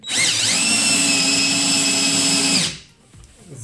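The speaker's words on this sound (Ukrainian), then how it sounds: "Це у нас спакс 140 мм. Пробуємо його закрутити." A Parkside PABS 20-Li cordless screwdriver at torque setting 25 drives a 140 mm Spax screw, whining loudly and steadily for nearly three seconds before cutting off abruptly, leaving quiet handling noise.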